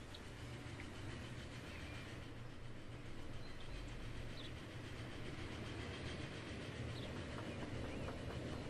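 A train runs through a Transport Fever 2 railway scene, giving a steady, fairly quiet rumble with faint clattering that carries on for the whole stretch.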